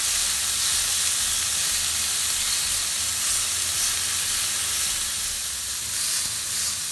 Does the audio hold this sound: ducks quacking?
no